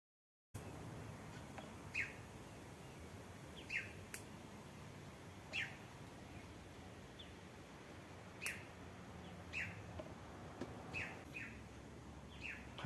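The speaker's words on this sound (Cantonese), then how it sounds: "大家聽到雀仔聲啊" Small birds in a cherry tomato garden give brief, faint chirps at irregular intervals, about a dozen over a quiet, hissy outdoor background.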